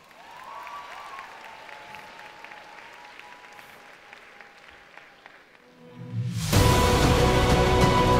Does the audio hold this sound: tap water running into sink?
no